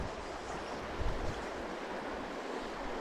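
Strong headwind gusts across the open banks of the Howqua River during dry fly fishing, a steady broadband rush with a brief louder buffet against the microphone, no voices.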